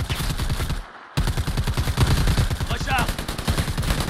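Rapid automatic gunfire in the video game Predator Hunting Grounds, loud dense bursts of shots that pause briefly and then resume in a steady rattling stream.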